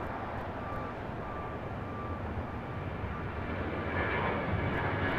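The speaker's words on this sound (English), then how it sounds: "Next takeoff, United Airlines Flight 1153 heading to Houston, Texas, 737-900 ER." A United Airlines Boeing 737-900ER jet takes off at LAX, a steady broad engine roar at moderate distance that swells slightly toward the end, with no voices over it.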